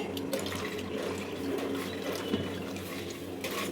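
Water from soaked rice running and splashing as it is poured off in a kitchen, a steady watery trickle with small drips and clinks throughout.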